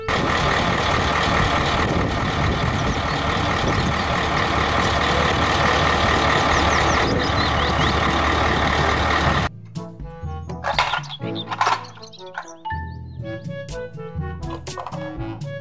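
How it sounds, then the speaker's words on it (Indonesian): A heavy truck engine rumbles loudly and steadily, then cuts to a busier mix of tonal beeps and mechanical sounds nearby. "mobil dump truck"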